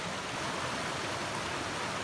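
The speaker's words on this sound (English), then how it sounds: "I've been listening to this river for a while as I've come down the mountain." A mountain river rushes over rocks beside a trail, a steady, dense broadband roar of flowing water that holds close and even throughout, with no voices.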